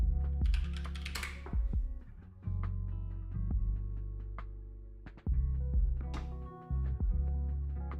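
Quick bursts of typing on a computer keyboard, close and clear, with irregular clusters of key clicks separated by brief pauses.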